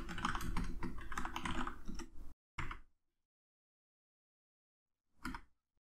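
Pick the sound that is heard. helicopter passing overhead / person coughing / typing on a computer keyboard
typing on a computer keyboard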